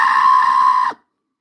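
A person imitates a screaming goat with one loud, sustained high-pitched cry that holds steady for about a second, then drops and cuts off into silence.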